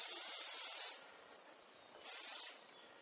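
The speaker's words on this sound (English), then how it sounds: "So I'm just going to give it a good spray." Sebastian Shaper Plus hairspray hisses from a can onto hair in two close bursts, a long one followed by a shorter one, with a softer hiss lingering between them.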